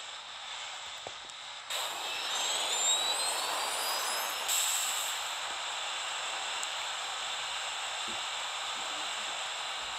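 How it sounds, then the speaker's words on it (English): A car's thruster roars in the video game Car Crushers 2 as a steady, hissing jet-like rush with a rising whine layered on top, holding loud and constant throughout. "And for speed, you can stick the thruster on."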